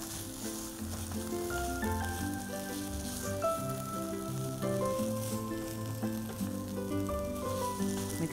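Spices being mixed into sizzling gravy in a kadhai for mutter paneer, a steady loud frying hiss with soft stirring scrapes throughout, no voices.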